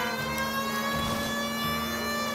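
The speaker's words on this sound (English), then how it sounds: "Oh, the sirens." Police sirens wail in the video game LA Noire, a steady, faint electronic tone held without pause against quiet background noise.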